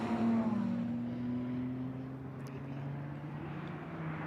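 A Ferrari Challenge race car on the final section of the Mugello circuit, its engine a steady sustained drone with a slowly falling pitch as it passes, heard alone and fairly close throughout.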